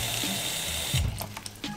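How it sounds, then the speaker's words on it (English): Tap water runs steadily from a faucet into a sink, then shuts off, leaving a few faint drips and small clinks nearby. "I will be using water from the tap because I know it's okay"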